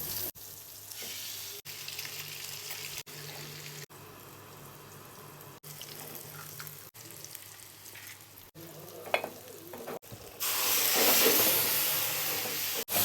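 Eggs with braised meat (kavurma) sizzle and crackle steadily in a hot pan, the frying growing louder and hissier toward the end, with faint utensil clicks.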